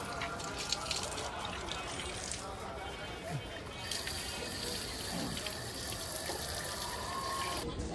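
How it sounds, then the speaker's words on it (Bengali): Water runs steadily from a hand-washing tap at a temple dining area in Mayapur, a continuous splashing wash under busy crowd chatter and nearby voices throughout. "এখানে কল আছে, তোমরা হাত ধুয়ে নিতে পারো।"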